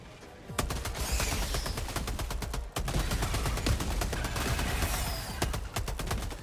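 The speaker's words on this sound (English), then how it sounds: "Firing orbital barrage, clear the area." An orbital barrage strike in the Helldivers video game brings a dense, continuous run of sharp explosive blasts, rapid and overlapping like heavy gunfire, loud and steady for several seconds.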